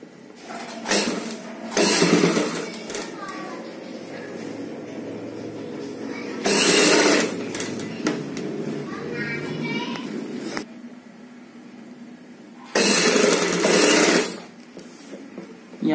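A sewing machine stitches a collar onto a kurti in three loud, bursts of rapid whirring a few seconds apart, with someone talking quietly in the pauses between runs.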